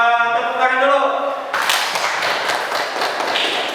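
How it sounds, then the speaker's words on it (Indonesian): A classroom group breaks into applause, a dense burst of many hands clapping that starts abruptly and keeps going steadily, loud and close, right after a voice speaking alone. "Silakan tepuk tangan dulu."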